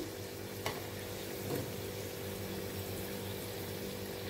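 Diwali snacks fry in hot oil with a continuous close bubbling sizzle, steady and moderately loud, with a couple of faint clinks and no talking.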